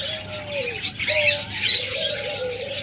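A pair of albino and lutino lovebirds kept for sale calls from close range, with bright, repeated chirps and squeaky whistled notes over a low background hum.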